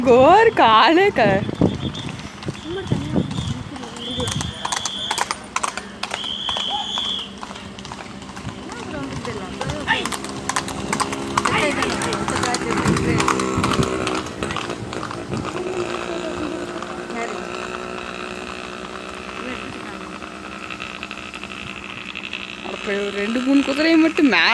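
Horses galloping in a race, a steady clip-clop of hooves running under loud, continuous crowd noise and commentary, with talk throughout.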